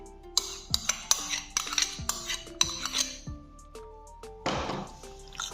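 A spoon stirs cubed chicken into yogurt marinade in a bowl, giving a series of sharp clinks and scraping knocks against the dish, close and fairly quiet.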